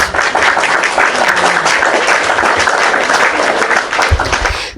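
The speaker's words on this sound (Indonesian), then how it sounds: "tepuk tangan dulu buat Pontius Pilatus" Loud, dense audience applause from a studio crowd, sustained for several seconds and then cutting off abruptly.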